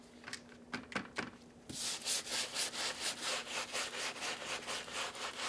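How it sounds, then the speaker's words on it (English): A stiff bristle brush scrubs the midsole of a LeBron Space Jam sneaker, starting with a few separate strokes and then settling into a steady run of rhythmic back-and-forth scrubbing, close and fairly loud, with no talking. "move to FZ150's stiff bristle brush so we can go ahead and hit the midsole up"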